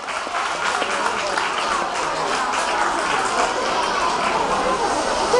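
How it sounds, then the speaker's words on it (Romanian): Steady, dense applause from an audience fills the whole stretch at an even level, with a crowd murmur mixed in. "Aplauze pentru domnișoara Roman."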